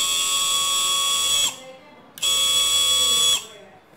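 A homemade DIY drill machine motor whines at high speed in two bursts, each running about a second and a half before it winds down and stops, with a short pause between them.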